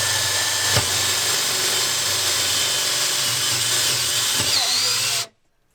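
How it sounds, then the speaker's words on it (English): A power drill bores a pilot hole up through the wooden floor from underneath a van, whining steadily and loudly at high speed before cutting off abruptly near the end. "before we drill our hole, we're going to move underneath here"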